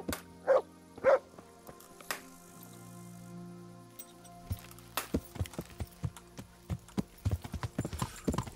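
Video game horse hooves in Kingdom Come: Deliverance clip-clop on hard ground, a few slow steps at first and then a quicker, steady run of clops near the end.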